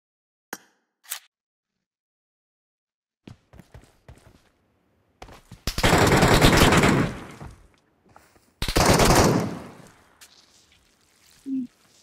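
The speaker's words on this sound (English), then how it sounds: "The machine gun." Machine gun fire in PUBG Mobile: two loud sustained bursts of rapid automatic shots, each lasting a couple of seconds, close and harsh, with a few isolated clicks and single cracks around them and quiet gaps between.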